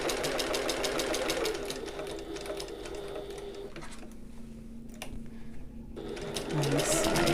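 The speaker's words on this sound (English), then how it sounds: "I'm going back up to my basting stitch length, and I'll sew along the bottom and the sides then" A sewing machine hums steadily up close, basting along the bottom and sides of a shoulder bag, with a brief lull midway before the motor picks up again.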